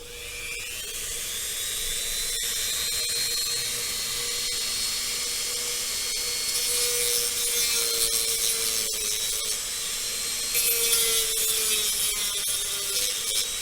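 A Dremel rotary tool grinds a plastic part of an MPC X-Wing Fighter model kit, a thin, high-pitched whine that holds steady with small shifts in pitch and faint clicks, fairly close and moderately loud, with no voices.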